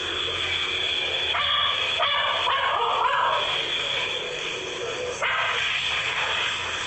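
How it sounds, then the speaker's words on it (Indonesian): A dog barks over and over, loud and insistent, in short repeated bursts against a steady noisy background. "Dia menggonggong lagi berkali-kali dengan suara yang lebih keras"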